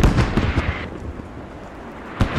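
Video game 81mm mortar barrage: deep booming explosions with rumbling tails, a cluster of impacts at the start fading into a low roar, then another blast near the end.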